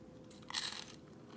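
A single crisp crunchy bite into loaded trash can nachos, close and quiet, one short burst of crackling crunch with no talking.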